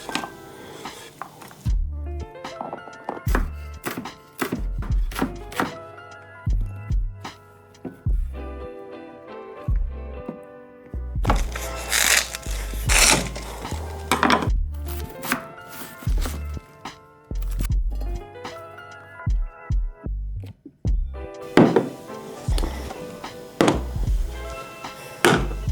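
A knife chops onions and other vegetables on a board during meal prep, giving loud, irregular thunks and taps in quick clusters with short pauses between runs.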